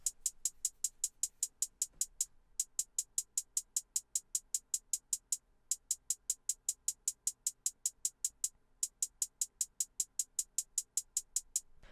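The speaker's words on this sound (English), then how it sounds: "Moving on to the hi-hats, it's just a 2-step pattern with slight pauses in between, and it sounds like this." Trap hi-hat loop from an FL Studio beat, a two-step pattern of crisp, bright, evenly ticking hits in fast runs broken by short gaps, heard alone.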